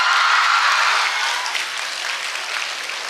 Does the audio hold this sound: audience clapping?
yes